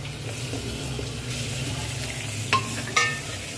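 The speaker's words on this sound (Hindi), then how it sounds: "अब हम इसमें ये कलेजी मिक्स करेंगे।" Mutton liver stirred into frying onions in a pan, a soft steady sizzle with faint scraping and two brief louder clinks near the end, no talk.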